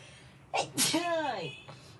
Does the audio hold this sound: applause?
no